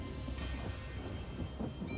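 Rumbling thunder with rain in The Elder Scrolls Online, a low continuous storm roll lasting a couple of seconds with no voices.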